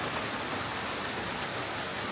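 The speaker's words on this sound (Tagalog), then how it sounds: "ang lakas ng ulan." Heavy rain pours down steadily outdoors, a dense, even broadband hiss of drops hitting surfaces with no pauses and no voices.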